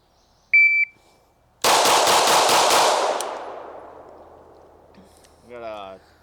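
Staccato XC pistol with a red dot sight fired at a shooting range, a short electronic start beep followed by a fast string of about six loud sharp shots, then ringing echo that decays, with a brief voice near the end.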